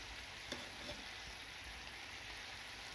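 Rice being stir-fried with chicken, vegetables and soy sauce in a pan, a faint steady sizzle with a couple of soft stirring scrapes, no talking.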